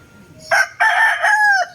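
Gamecock rooster crowing nearby, one loud crow broken into a short opening note and a long drawn-out call that falls away at the end, clear and close.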